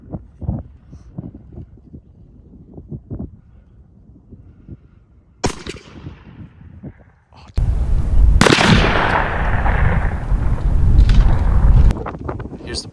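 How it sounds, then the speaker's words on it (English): A shotgun fired with Longbeard 3-inch No. 5 lead shells at a turkey pattern target, heard as a sharp outdoor blast, then a loud sustained roar of wind and noise for several seconds, after quieter handling sounds. "we're going to get shooting and show you what patterns we get out of these guns"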